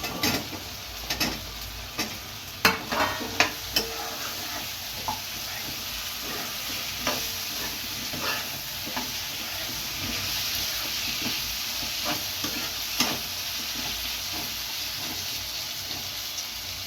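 Drumsticks (moringa pods) being fried and stirred in a pan for an Andhra-style chana dal curry: a soft continuous sizzle with a few sharp clinks and scrapes of the spoon early on, fairly quiet and close.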